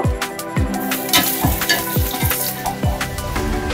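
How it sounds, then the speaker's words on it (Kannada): Vada sizzling and frying in hot oil, a steady close crackle broken by repeated scraping stirs of a spoon or ladle against the pan. "ಇಲ್ಲಿ ಇದು ವಡಾ ಒಳ್ಳೆ ಫ್ರೈ ಆಗಿದೆ."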